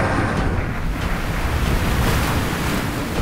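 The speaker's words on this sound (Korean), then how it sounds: "설상가상으로 파도까지 어마어마하게 거세진 상황." Rough sea waves roar continuously and loudly on a fishing boat out at sea, mixed with strong wind buffeting against the microphone.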